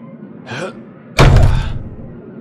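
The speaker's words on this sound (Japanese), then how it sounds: "ダメ元でドアを蹴破ってみるか。" A door is kicked open in the horror video game Lurk in the Dark: a faint scuff, then one loud, heavy slamming thud that rings out briefly, close and alone.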